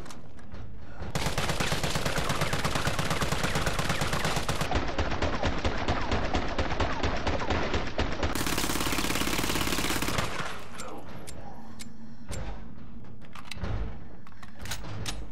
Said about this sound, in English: So here's the assault rifle in-game.